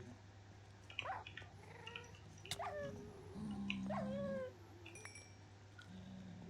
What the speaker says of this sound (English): we have another dog